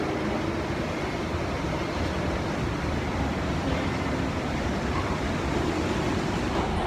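A London Underground train rumbles steadily at a station, a continuous low, dense roar of running carriages filling the whole stretch with no clear pauses.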